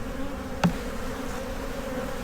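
Honey bees buzz around an opened, warm hive full of milk brood, a faint steady drone with one brief louder buzz as a bee passes close.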